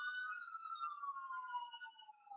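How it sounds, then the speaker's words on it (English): A faint siren wails in the distance, its pitch slowly sliding downward as it passes, with no other sounds around it. "For the siren to pass here on a Sunday night."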